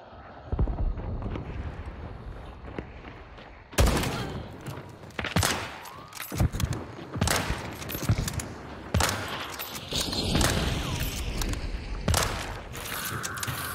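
Gunfire in a video game, including a shotgun slug fired as a headshot, comes as sharp, loud shots that break in suddenly and recur irregularly over a busy mechanical background.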